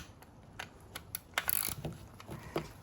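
Wrench or ratchet tightening a fitting during an oil change on a 2017 BMW X1 F48 sDrive18i petrol, giving a series of faint, sparse mechanical clicks and ratcheting bursts up close, with no talk.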